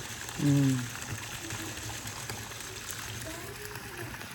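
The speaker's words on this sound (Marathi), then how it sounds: "बघा इथून बरोबर दिसतंय नंदीच्या तोंडातून पाणी येतंय." Water pouring from the mouth of a Nandi statue into a temple tank: a steady, even rush of flowing water heard from nearby, with a voice talking briefly over it near the start.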